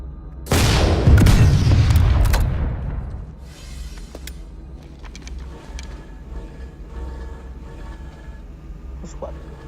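A loud rocket-launcher explosion in the PlanetSide 2 game booms out suddenly, then rumbles and decays over a couple of seconds into a quieter background hum with faint mechanical clicks.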